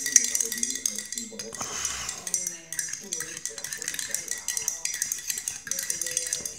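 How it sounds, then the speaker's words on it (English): A spoon stirs coffee with cinnamon in a cup, giving light repeated clinks and scrapes of metal on ceramic, close and clear over a soft background of music. "let's stir it around a bit."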